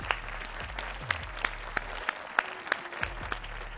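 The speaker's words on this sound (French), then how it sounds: "Bien joué la famille, on peut venir s'applaudir." Small group clapping together after a boxing training session, a sparse, loose patter of claps.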